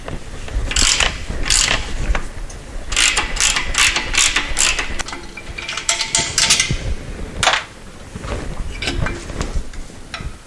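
A ratchet loosens half-inch bolts from the motor base of a Porter Cable 5 HP air compressor, rapid loud clicking bursts repeating close up with short gaps and metallic clanks between them.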